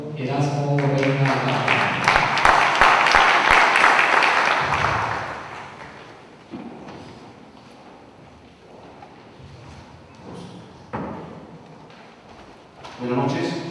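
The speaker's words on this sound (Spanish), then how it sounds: "Recibimos un fuerte aplauso al doctor Erasmo Reina." An audience applauds in a hall for several seconds, a loud dense wash of clapping that fades out, followed by a quieter stretch where someone speaks.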